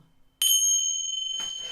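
A bell struck once, giving a bright, sustained ring that decays slowly before faint rustling noise follows, heard alone and fairly close.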